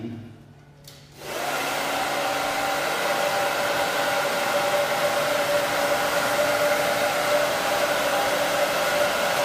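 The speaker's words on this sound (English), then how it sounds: "So when I blow dry, I try to work in zones too." Hair dryer blow-drying a short layered bob haircut, switching on after a quiet second and then roaring loud and steady with a constant whining tone, close by.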